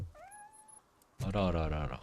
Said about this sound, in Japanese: なんか猫の声が聞こえるけど。